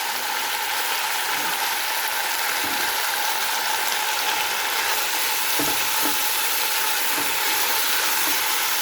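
Pancit sizzles steadily in a pan after soy sauce and oyster sauce are added, a dense, continuous frying hiss with occasional soft scrapes of stirring.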